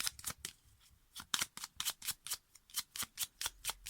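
Tarot cards are shuffled quickly by hand in soft, rapid riffling bursts, close and fairly quiet, with no talking.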